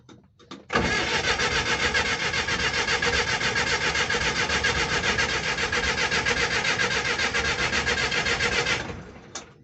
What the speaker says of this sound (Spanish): Vamos a ver si arranca en frío.